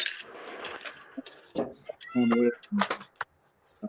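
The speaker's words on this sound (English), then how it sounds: "Kitty cat." A house cat meows a couple of times in a short, tonal cry midway through, with a voice talking nearby before and after.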